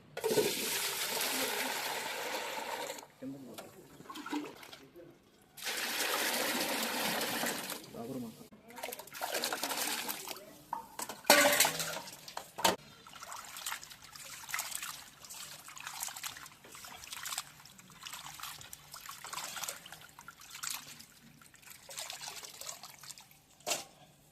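Chicken leg pieces being rinsed in a bowl of water, with bursts of trickling and splashing water in several stretches, interrupted by brief handling clatter and quieter pauses.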